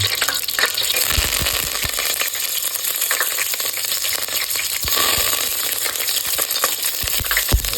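Curry leaves and mustard seeds crackle and sizzle in hot oil, a dense, close, loud spitting hiss with bursts of popping, for a Gujarati-style muthia.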